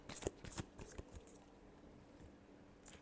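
Tarot cards are shuffled close by: a few quick, crisp riffling bursts at the start, then quieter, softer card handling, with no voice.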